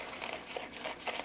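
Scissors snip away the surplus plastic from a vacuum-sealed meat bag, producing soft crinkling and cutting rustles that come in a few bursts, close and quiet, with no talking.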